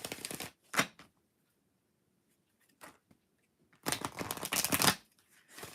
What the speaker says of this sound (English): we're going to shuffle this again